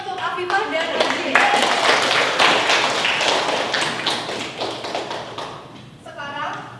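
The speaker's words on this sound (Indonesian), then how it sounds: "Beri tepuk tangan untuk Afifah dan Aji." Classroom applause from students, a dense patter of hand claps sustained for several seconds and tapering off, with voices mixed in at the start and end.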